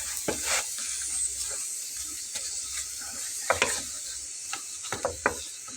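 A potato paratha is pressed down and fried on a pan, giving a soft continuous sizzle broken by a few sharp scraping and pressing clicks from a spatula, with no talking.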